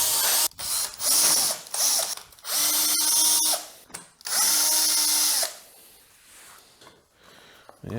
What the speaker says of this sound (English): You have to open the screws holding the case.